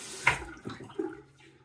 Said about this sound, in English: And now I'm going to wet the razor